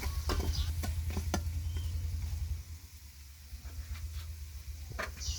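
Seasoning paste being stirred in a pot over low heat for pork rib soup, with repeated scraping strokes and a light sizzle, close up and without voices.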